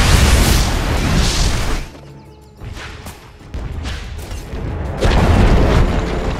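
A Dota 2 tower collapses in a burst of crashing, booming destruction, followed by a quieter pause and then further loud impacts and rumbling game effects.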